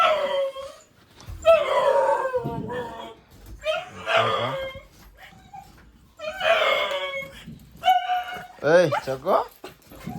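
Several house dogs howl and whimper in rising, wavering bursts with short yips between them, close and loud, while people talk over and between the cries.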